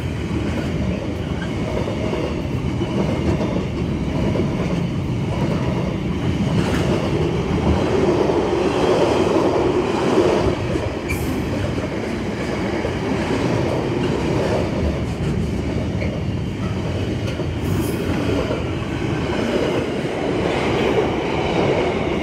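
Class 66 diesel locomotive 66528 hauling a train past St Denys station, a loud, steady rumble of engine and rolling wagons with rail clatter sustained throughout, close and continuous.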